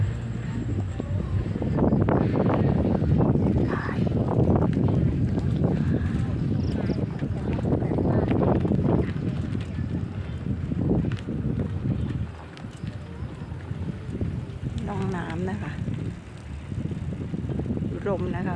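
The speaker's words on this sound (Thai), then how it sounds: "เพื่อนๆจ๋าลมโชย ลมโชย" Wind blows while a cyclist rides through rice fields in the evening, a continuous low rumbling buffet that swells and eases, with a voice heard at times.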